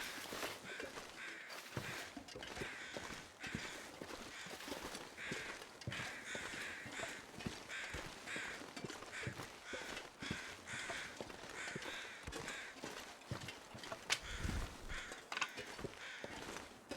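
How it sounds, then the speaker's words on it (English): Crows cawing in the snowy wilderness of the survival game The Long Dark, repeated harsh calls at a moderate distance over a crunching backdrop of footsteps. "there is what the crows are crying about"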